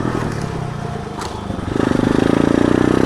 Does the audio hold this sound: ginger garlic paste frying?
no